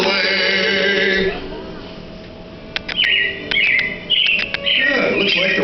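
Animatronic robins chirping in Disney's Carousel of Progress show, several bright high tweets in bursts after a song fades, heard close and clear over a low room hum.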